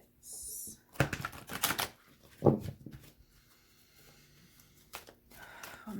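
Oracle cards are shuffled in a few quick riffling bursts, close and crisp, separated by short pauses and soft handling noises.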